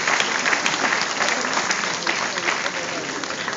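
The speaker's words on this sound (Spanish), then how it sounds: "Y damos un fuerte aplauso a Jesús mientras nos sentamos" A church congregation claps together in a sustained, loud burst of applause that holds steady from start to finish, with a few voices mixed into the crowd noise.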